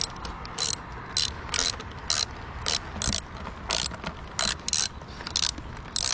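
A ratchet wrench clicks rapidly in short bursts, loosening the screws holding the small fender on a 1998 Honda CB500 motorcycle. The bursts repeat in a steady rhythm up close, with no talking.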